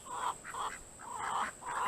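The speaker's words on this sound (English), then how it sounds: "And there's my main rooster, Hawkeye." A rooster named Hawkeye calls from a summer garden coop area in a series of repeated throaty bursts, fairly close and alone against a faint steady background hum.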